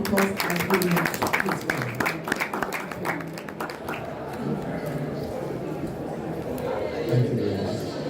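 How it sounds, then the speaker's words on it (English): Audience applause at a formal academic gathering, a burst of clapping that starts loud and fades over several seconds with some crowd murmur mixed in. "A round of applause as we"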